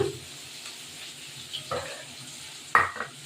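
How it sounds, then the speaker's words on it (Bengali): Soft sizzling of onions frying in a pan, close by, with a few light clinks of a utensil against the pan. "পেঁয়াজটা একটু ভাজা হবে"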